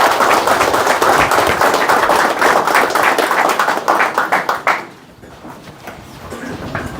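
Dense clapping and applause from a gathered crowd, steady and loud for nearly five seconds, then thinning to a few scattered claps under voices.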